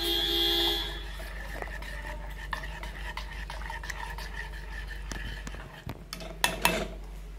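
Ragi porridge being stirred slowly in a pot, soft repeated scraping and clinks of a spoon against the metal, with a few sharper knocks near the end.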